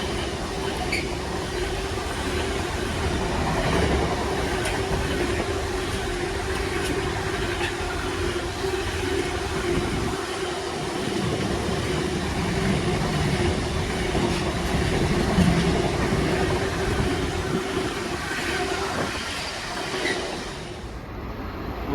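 Class 66 locomotive 66502, a Trafford Park freight, rolls through Watford Junction station with a continuous heavy diesel drone and rhythmic wheel clatter over the rails, loud and close throughout, easing slightly near the end.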